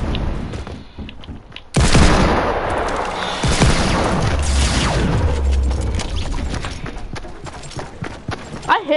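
Repeated hand cannon gunshots from a first-person shooter duos cup match, sharp booming reports firing in quick succession throughout, loud and close, mixed with game effects and some chatter.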